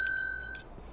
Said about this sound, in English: please make sure to ring that bell